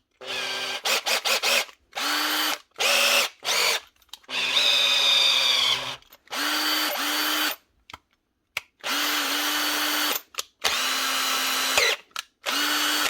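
A Makita DHP453 combi drill, just repaired after a stripped gear, whirs in a series of short bursts separated by silent gaps, some higher and some lower in speed, loud and close with no talk.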